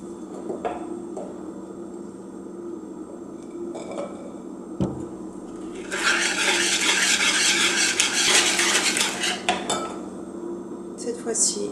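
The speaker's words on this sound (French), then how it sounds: "Je vais verser dans le mélange précédent en alternant le mélange farine-levure chimique et le lait jusqu'à ce que le mélange soit homogène" Flour and baking powder mix folded with milk into a batter in a bowl, clinking utensil taps and scrapes, then a dense, busier stretch of vigorous mixing near the end, close with no voices.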